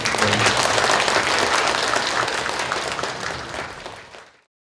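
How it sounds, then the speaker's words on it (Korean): A symposium audience of volunteers applauds one another in encouragement and thanks, a loud, dense wash of many hands clapping steadily before tapering off and ending abruptly. "나 자신과 서로를 위한 격려와 감사의 박수를 이 자리를 빌어서 같이 이렇게 좀 한번 해볼까요?"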